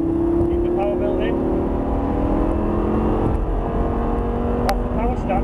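A Lamborghini supercar engine accelerates on a track, its rising engine note steady beneath a man's spoken coaching.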